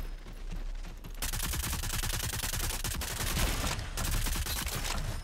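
Sustained rapid gunfire from the Rogue Company video game, a dense loud burst of shots that starts after a second, pauses briefly near the end, then resumes.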